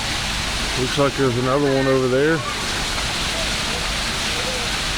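Waterfall in a zoo bear habitat gives a steady, loud rushing hiss throughout, while someone talks briefly over it early on.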